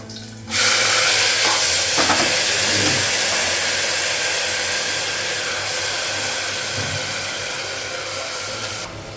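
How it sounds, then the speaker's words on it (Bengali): Rice frying in a pan for pilau in a home kitchen, a loud, steady broadband hiss that starts abruptly and holds for several seconds before cutting off, with no talk. "চালটা একটু ভেজে"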